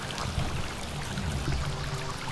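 Water sprays and splashes steadily at an outdoor splash pad, a continuous rushing, pouring sound close by with no voices.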